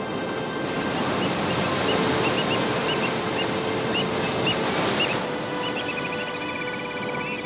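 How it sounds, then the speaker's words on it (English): Ocean waves roll steadily onto a coast, a continuous broad wash of surf with faint high bird-like calls near the end, close and loud with no voices. "To Douglas, gazing at the waves rolling in from Asia deepened his perspective."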